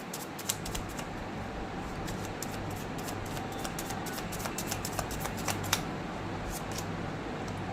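Tarot cards shuffled continuously during a reading, a steady papery riffle with small flicks and snaps throughout, close and fairly loud over a low background hum.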